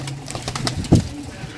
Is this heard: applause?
no